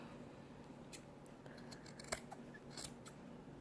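Scissors trim the cuff of a handmade wool mitten with faint, scattered snips close by in a quiet room.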